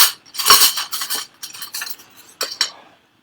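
A pink cocktail being stirred over ice, with clinking, rattling strokes of a bar spoon against ice and glass in quick close bursts, then a pause and two final clinks.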